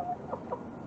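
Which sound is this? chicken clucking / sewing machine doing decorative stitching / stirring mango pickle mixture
chicken clucking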